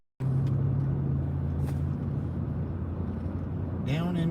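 A car engine rumbles steadily and loudly throughout, a low constant drone with a brief rising tone near the end.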